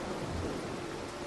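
Thunder rolls through a storm in the stealth video game Mark of the Ninja, a steady, dense rumble blended with rain-like hiss that holds at an even level with no speech.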